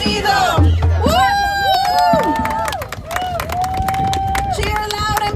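Protest crowd at an anti-ICE standoff outside Delaney Hall in Newark, New Jersey, cheering and shouting in a loud continuous roar, with whoops and chanting voices layered on top and talk mixed in.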